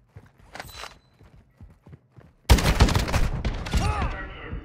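Gunfire in the Call of Duty DMZ video game, including shotgun blasts, breaks out suddenly as a loud, dense burst of rapid shots over the last two seconds, after a quieter stretch of scattered clicks and movement.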